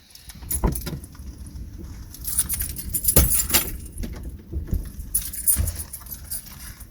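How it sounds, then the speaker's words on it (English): A car smart key fob for a 2015-2020 Honda Fit is handled and pulled free, giving several bright metallic jangles and clicks at close range over a low background rumble, with no talking. "Now take the smart key out of your vehicle."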